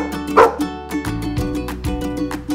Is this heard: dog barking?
yes